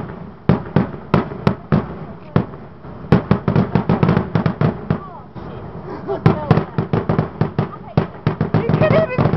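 Fireworks booming in the distance in an irregular volley of sharp bangs and pops that keeps up throughout, with overlapping bursts and a few crackles near the end under occasional background voices.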